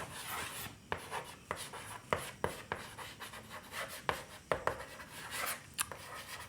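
A pen scratches out an equation by hand during a maths lesson, a close run of short, irregular strokes and taps with brief pauses between marks, and no voice over it.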